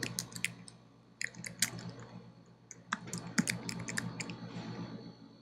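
Quick bursts of keystrokes on a computer keyboard, crisp and close, in short irregular runs separated by brief pauses, with no talking.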